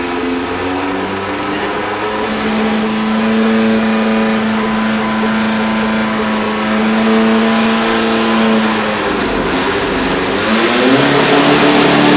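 An EMPI Volkswagen buggy engine run on a test stand, a loud sustained drone that holds steady, then climbs in pitch as revs build toward the end, heard up close with no talk.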